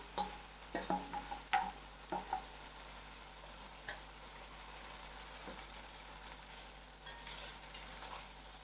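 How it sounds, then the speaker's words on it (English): Mixed vegetables and soya chunks sizzle in a pan for a vegetarian biryani, a soft steady frying hiss broken by a few sharp clicks and taps of stirring near the start, with no talk. "I'm going to allow this to simmer for about 5 minutes"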